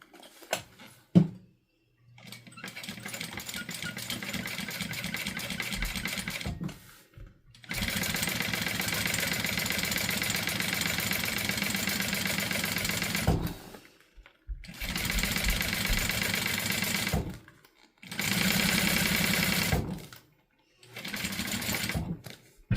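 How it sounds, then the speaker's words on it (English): A sewing machine runs in several bursts, each a loud, rapid mechanical whir, top stitching about an eighth of an inch from the edge of a fabric panel, separated by short silent pauses, with some handling clicks near the start. "We're going to top stitch at 1/8 of an inch."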